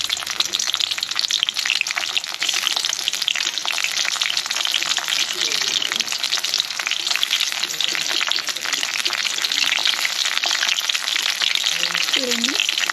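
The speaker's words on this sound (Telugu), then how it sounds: "చూడండి ఇలా అయితే పచ్చిమిరపకాయలు, ఉల్లిగడ్డ అయితే వేసేసాను." Green chillies and chopped onions frying in a pan give a steady, loud, dense sizzle that runs throughout, with brief stirring scrapes and no one talking.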